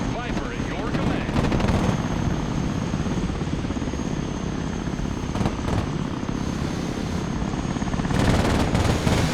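A Viper attack helicopter in the video game Broken Arrow thrums with a dense rotor and engine drone, punctuated by bursts of gunfire and a voice speaking over the din.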